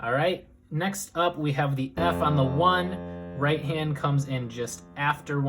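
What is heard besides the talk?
No everyday noise stands out behind the speech.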